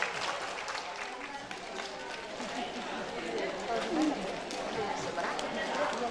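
Applause from an audience of women at a community talk on clean water and healthy latrines: a faint, steady wash of many hands clapping continuously, with a low murmur of voices underneath.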